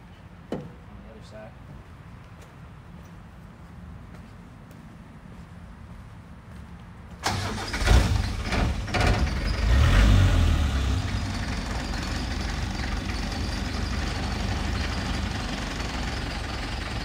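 A 1987 Land Rover Defender 110 stays quiet at first, then cranks and fires on a cold start midway, revving briefly before settling into a steady, loud, rumbling idle.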